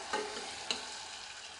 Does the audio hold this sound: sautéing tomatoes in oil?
yes